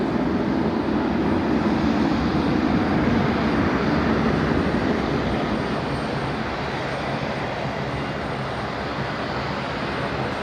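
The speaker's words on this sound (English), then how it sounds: "We just had this beautiful 320 Neo of Jetstar come in there" A Jetstar Airbus A320neo arriving at Brisbane Airport at night, a broad, loud, sustained engine roar that eases slightly toward the end, with no talk.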